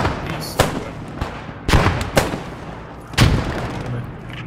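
Explosions from bombing in the Post Scriptum video game, set at Arnhem: several sharp, loud blasts at irregular intervals, with rumbling tails between them against steady battle noise.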